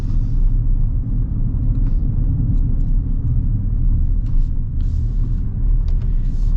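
A 2026 GMC Sierra EV electric pickup drives along a road, giving a steady low rumble of tyres and cabin noise with no engine note, heard from inside the vehicle.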